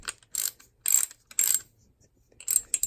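A hand torque wrench's ratchet clicks in four short bursts of rapid ticks with brief pauses between, close and clear with no talk.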